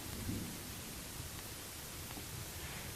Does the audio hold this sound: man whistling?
no